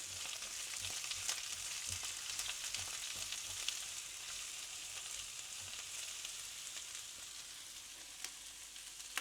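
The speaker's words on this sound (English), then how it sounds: "with our peppers and our onions, and we're just going to saute those for a minute there." Sweet peppers and onions sautéing in a pan, a steady soft sizzle with light crackles and occasional faint taps of stirring, even and close throughout with no voices.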